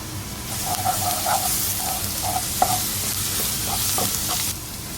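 Ginger garlic paste fries with onions in a hot pan for masala dosa filling, giving a continuous close sizzle and hiss with occasional stirring scrapes and soft clinks throughout.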